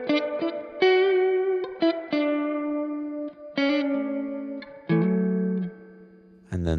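Electric guitar played through a Safari Pedals amp sim with spring reverb at 100%, plucked notes and chords ringing out with a lingering splashy tail between phrases, no talking.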